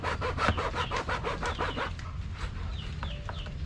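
Hand hacksaw cutting metal while building a DIY charcoal stove: rapid, rhythmic rasping strokes, about ten in a row, close and fairly loud, then stopping, leaving a quieter scraping and a faint chicken-like cluck in the background.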